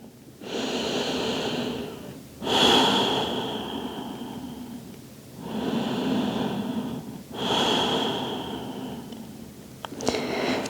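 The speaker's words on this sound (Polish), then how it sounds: "Kilka oddechów." Slow, deep breathing held in a yoga child's pose: long audible inhales and exhales alternating in a steady rhythm, close and alone with no talk.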